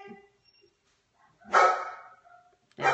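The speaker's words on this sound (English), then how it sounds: "My dog's barking real loud." A dog barks loudly twice, close by, with short gaps of quiet in between.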